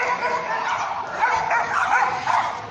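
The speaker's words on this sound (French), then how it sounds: "vous allez assister en direct à une bagarre de chiens" Several dogs yelping and barking in a scuffle outdoors, loud and continuous with rising bursts of whining cries, heard without speech.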